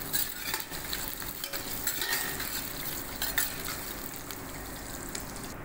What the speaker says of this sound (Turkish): kuyruk yağımız iyice kavruldu